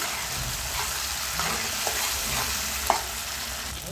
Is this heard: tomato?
yes